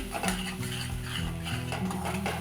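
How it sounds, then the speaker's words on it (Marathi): A spoon scrapes and stirs a ground spice paste frying in oil in a pan for a spicy Maharashtrian vegetable curry. It makes soft continuous clinking and scraping with a faint sizzle underneath. "हलक्या हाताने चांगलं परतून घ्यायचं आहे वाटण चांगलं तेल सुटेपर्यंत परतून घेऊया"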